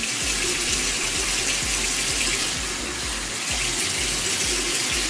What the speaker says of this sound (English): Just going over that solid, rinsing, and going over the solid again.